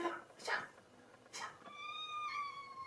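A pet cat lets out a couple of broad meows, then a drawn-out tonal cry with clear harmonics near the end, close by in a quiet room.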